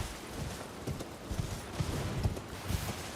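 A horse in the Elden Ring video game galloping away, rhythmic hoof clip-clops at a steady pace, faint and close against a soft game ambience.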